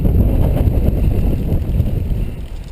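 Strong, continuous wind buffeting a microphone on a recumbent bike during a very windy outdoor ride, a loud low rumble with gusty fluctuations throughout and no talking.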